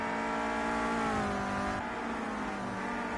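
Renault Clio Cup race cars on the Brands Hatch GP circuit, a steady loud engine drone with harmonic whine that shifts pitch as cars pass and accelerate, continuous without pauses.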